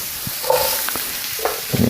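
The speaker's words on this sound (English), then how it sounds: "I'm going to add a little more olive oil. Drop our garlic in real quick. And our zucchini." Garlic and zucchini sauté in olive oil in a pan with a low, steady sizzle, broken by a few quick stirring scrapes and taps up close, with no talking.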